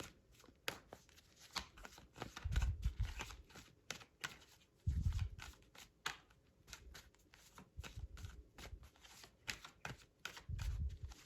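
Tarot cards shuffled by hand, close and crisp, with rapid papery riffles and clicks in bursts and several heavier thumps as the deck is squared, with no talk.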